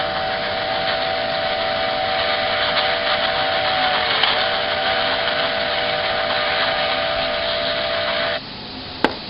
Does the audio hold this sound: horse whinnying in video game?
no